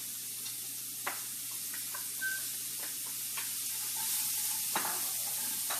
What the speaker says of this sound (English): Get a good sizzle on those.